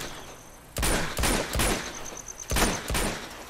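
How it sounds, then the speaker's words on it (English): Gunfire in Uncharted 2 Among Thieves: several loud, close bursts of rapid shots with short gaps between them and a faint electronic tone in the background. "I thought that was Sully shooting"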